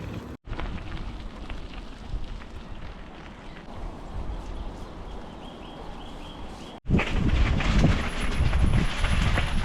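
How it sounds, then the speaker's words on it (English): Heavy rain roars steadily as a broad hiss under a viaduct in Stockport, briefly cutting out twice, then returning louder and closer for the last few seconds. "the heavens have opened and it's raining quite a lot now"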